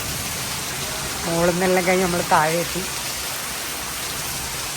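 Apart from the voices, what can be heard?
heavy rain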